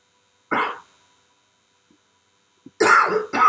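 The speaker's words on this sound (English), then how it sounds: "forgive my coughs" A sharp cough, then a pause, followed by a louder burst of two or three harsh coughs, close to the microphone.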